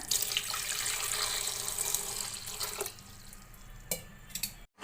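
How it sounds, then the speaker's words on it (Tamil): Water pours into a cooking pot after taro root has gone in, a steady hissing splash through most of the pour, then trickles and a few drips near the end. "அடுத்து வந்து ஒரு கப் தண்ணி விட்டுக்கலாங்க"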